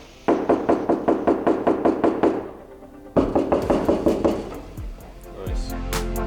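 Knuckle knocks on the outer door skin of a 1949 Ford on a BMW chassis, lined with Superlight sound deadener: a steady run of about nine dull, close knocks, a short pause, then another series, with faint voices near the end.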